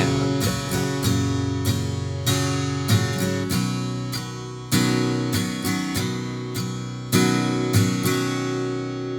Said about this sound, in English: You're playing each chord for two strumming patterns,